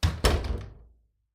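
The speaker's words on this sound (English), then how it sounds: "as he opened up the door" A door gives two quick wooden thunks close up, about a quarter second apart, then the sound fades into silence.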